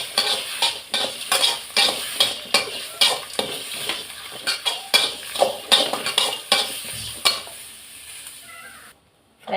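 Spices, grated coconut and cinnamon bark are dry-roasted in a pan for a mutton kulambu, with a spoon scraping and stirring in steady rhythmic strokes over a faint sizzle, close and fairly loud, stopping abruptly near the end.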